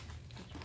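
Plastic sheeting bought for covering school books crinkles and rustles close up in one short continuous burst.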